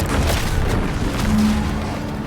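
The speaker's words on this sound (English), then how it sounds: "What's that? An explosion?" Deep, rumbling explosion in the video game The Outer Worlds 2, heard as a sustained low boom that rolls on and slowly fades, with no speech.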